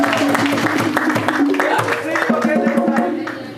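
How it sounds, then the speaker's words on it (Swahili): An audience applauds a Kenyan theatre performer at a tourism stakeholders workshop, a dense spell of near clapping mixed with crowd voices that tapers off after a few seconds. "Makofi kwake."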